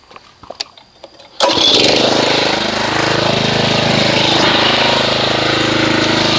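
A pressure washer kicks on abruptly after a few faint clicks and handling noises, then runs loud and steady with a constant droning whine, used for foaming car wash soap.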